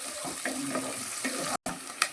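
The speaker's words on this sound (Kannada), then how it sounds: "ಎಣ್ಣೆಯಲ್ಲಿ ಫ್ರೈ ಆಗಬೇಕು" Garlic and onion frying in oil in a pan for paneer chilli, a soft, steady sizzle with a few light scraping stirs, fairly quiet and close, with a brief dropout near the end.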